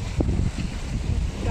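Fishing boat heading back to port across a heavy swell under Lion Mountain off Cape Verde, with a steady low engine drone and rushing wind against the microphone, plus water noise, all fairly close and continuous.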